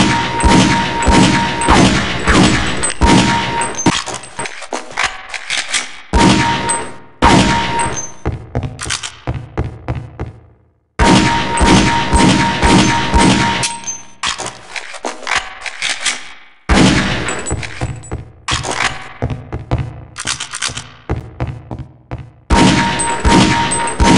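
Rapid single pistol shots crack out in a Half-Life: Opposing Force training course at range targets, loud and close, with metallic clangs of hits mixed in, in bursts separated by brief pauses.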